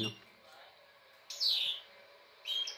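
Outdoor birds near a yard where pigeons and doves gather, with two short bright calls standing out over a quiet background after a faint voice at the start.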